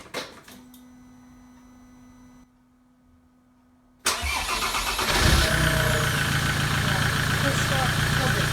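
A big old diesel engine, stone cold, fires up for its first start: a quiet lead-in gives way to a sudden loud burst of cranking that settles into a heavy, rough, close-up running roar.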